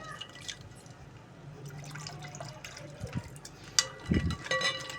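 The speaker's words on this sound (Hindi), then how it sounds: "उतना आप लोग पानी डालें और ये शरबत जो है आप लोग इसके अंदर मिक्स करें।" Water is poured into a glass and stirred into homemade lemon squash, a close run of trickling and dripping followed by clinks and splashy mixing near the end, with a voice speaking at times.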